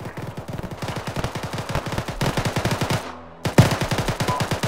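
Rapid bursts of automatic gunfire in the video game Arma 3 crackle continuously, with a brief lull before another loud volley; no voices are heard.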